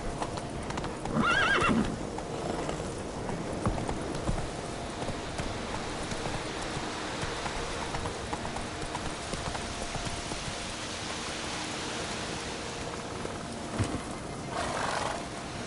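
A horse gallops in the video game Witcher 3, with steady clip-clop hoofbeats throughout and a brief whinny near the start, set against a dense ambient wash.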